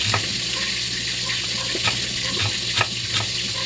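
Milkfish (bangus) frying in oil gives a steady, close crackling hiss with a few sharper pops and spatters, no voices over it.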